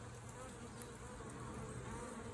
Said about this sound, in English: we take the bees and we shake it off on top of the new box